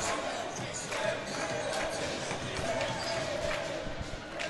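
Crowd noise at a youth U14 ice hockey game between East Coast Selects and Czech Knights, a steady broad roar of cheering spectators throughout, fairly loud and continuous with arena echo and a few louder swells.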